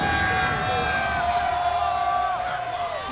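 Crowd cheering and whooping at a Granblue Fantasy Versus Rising fighting game tournament, a sustained loud roar of voices with tonal music or intro sounds layered over it.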